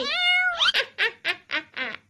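A cat meows in a long drawn-out cry followed by a quick string of five or six short, close meows in a steady rhythm.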